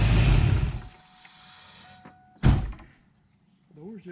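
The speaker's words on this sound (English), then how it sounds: "door shut pretty decent" A car door on a Foxbody Mustang swings shut with a single solid, close thunk, preceded by a burst of broadband rustle and followed by quiet, with faint voices near the end.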